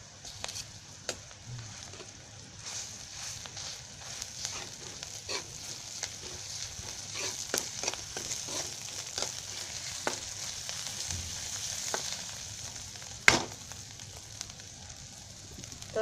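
Ginger garlic paste frying in a pan for aloo paratha filling, a steady soft sizzle with scattered crackles and a few sharper pops and stirring clicks throughout.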